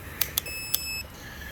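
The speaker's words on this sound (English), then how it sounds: "we're going to go ahead and set this to beep." A voltmeter set to continuity mode gives a steady, high electronic beep lasting about half a second while its probes, with T-pins as contacts, test an ignition coil. A few sharp clicks from the probes come before the beep, and it is faint and close.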